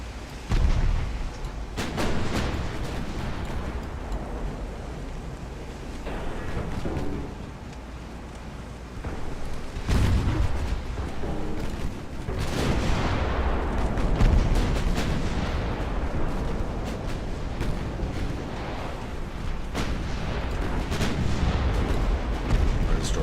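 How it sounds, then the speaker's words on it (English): Naval gun batteries firing high-explosive shells in a dreadnought-era naval strategy game, China 1890. Repeated loud booming salvos roll out over steady wind and sea noise, with a sharp blast near the middle and heavier volleys after it. "Only 2 of the batteries fired this time because of the angle. Yeah, we are firing HE"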